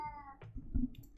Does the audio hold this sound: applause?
no